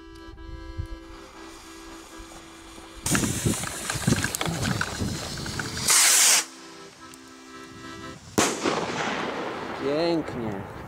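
A rocket firework carrying a large firecracker launches with a hissing, sputtering roar, followed by a loud bang and further hissing bursts and crackles, close and outdoors, with a voice briefly heard.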